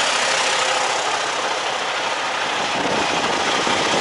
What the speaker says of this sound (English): It's a little loud because I got a truck running right next to me.